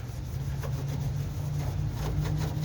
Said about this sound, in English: wipe it down